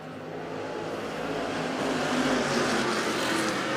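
IMCA stock cars roar down the back straight at USA Raceway, a loud dense engine drone that swells slightly as the pack runs past, with no talking.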